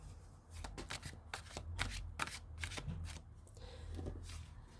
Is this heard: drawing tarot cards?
yes